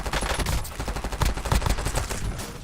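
Rapid bursts of gunfire in a shooter video game, loud and close, with dense overlapping shots and clustered automatic volleys throughout.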